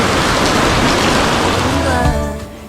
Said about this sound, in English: The rain just kept pouring down